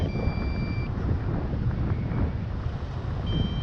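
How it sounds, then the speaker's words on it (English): Strong wind buffets the microphone in a loud, continuous low rumble that surges in gusts, with a faint high whine coming and going. "It's really windy. With gusts and everything."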